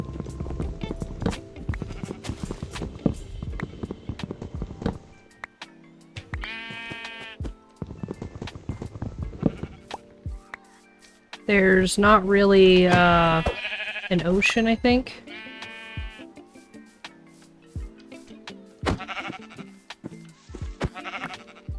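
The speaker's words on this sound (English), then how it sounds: "I got some sheep on this island" Sheep bleat repeatedly on an island in the Minecraft modpack Project Ozone 3, several loud wavering cries standing out amid in-game clatter, with someone talking on and off throughout.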